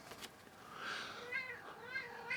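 A house cat meows repeatedly at night, several drawn-out complaining calls close by and moderately loud, with faint room noise between them.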